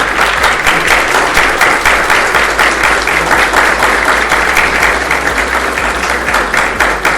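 A conference audience rises for a standing ovation, loud continuous applause filling the hall evenly from start to finish with a faint murmur of the crowd beneath.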